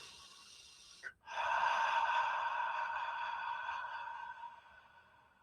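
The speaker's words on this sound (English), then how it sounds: "When you breathe out longer, it's like a big sigh." A man at a wellness expo gives a demonstration breath: a quick soft intake, then a long, smooth exhale like a drawn-out sigh. It is close to the mic and gradually fades over several seconds, with no talk.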